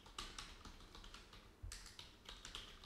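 Keys on a computer keyboard typed in a terminal, a run of quick light clicks and taps with a couple of heavier strokes, faint and close, with no voices.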